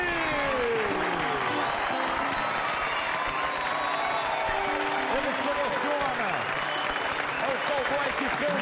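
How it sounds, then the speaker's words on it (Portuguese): A rodeo crowd applauds the national cross-treio champion as he receives his trophy, steady dense clapping filling the whole stretch with cheering and other sounds layered in. "uma salva de palmas a ele!"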